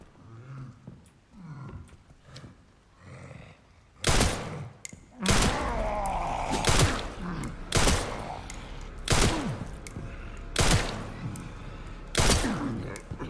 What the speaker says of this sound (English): I just shot him in the face with, like, the magnum.